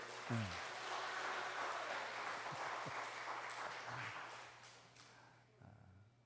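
A congregation at a Sunday morning praise service claps for a child named Jiho, a dense, steady round of applause from many hands filling the room, with a few faint low thumps and no talk.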